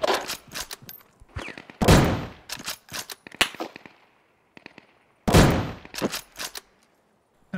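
Gunfire in the survival shooter Deadside, with sharp shots in short rapid bursts and single cracks, loud and close, with echoing tails between volleys and pauses of near quiet.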